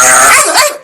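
A cartoon dog gives a single loud, close bark that trails off into a short yelp.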